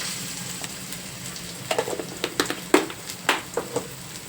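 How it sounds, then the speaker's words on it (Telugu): Ginger garlic paste sizzles in hot oil in a pan over a low flame, a soft continuous fry broken by scattered sharp crackles and pops that cluster in the second half; no voices. "ఇప్పుడు దీంట్లోనే మనం ఒక రెండు స్పూన్ల వరకు అల్లం వెల్లుల్లి పేస్ట్ వేసుకుంటున్నానండి"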